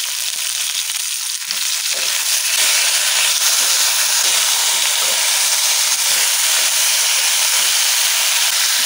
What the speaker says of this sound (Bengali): আলুটা একটু ভাজা হয়ে গেছে, ডাটাগুলা দিয়ে দেবো।